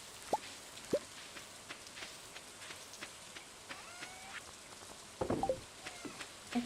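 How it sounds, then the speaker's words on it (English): Rain patters softly and steadily in the Stardew Valley farming game, with scattered louder drops and brief splashes over a faint background, with no talking. "And it's raining, so I can do a mining day."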